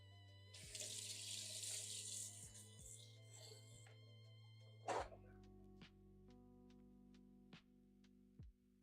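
Tap water running into a kitchen sink while something is rinsed, a bright close splashing that lasts about four seconds before the flow stops, followed by light clinks and faint ticks.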